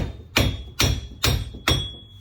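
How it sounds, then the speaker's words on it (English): Four evenly spaced, solid metallic strikes of a heavy mallet on a wheel bearing bracket and spacer of a 2005-2009 Chevy Cobalt, close up with brief ringing after each blow. "Just grab a mallet, tap it"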